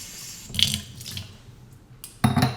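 Glasses rinsed under running water give brief splashes and trickles, with a louder burst of splashing and a clink of glass near the end, fairly close and without speech.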